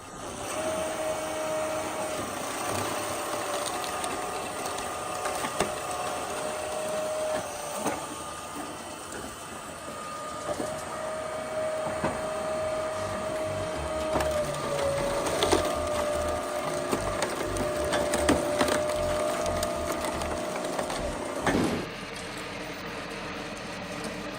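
An Alpha 6 firewood processor working through red oak logs, a continuous loud mechanical whine and hum with intermittent cutting and crushing noises, ending in an abrupt clunk near the end.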